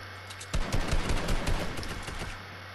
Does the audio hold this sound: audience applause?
no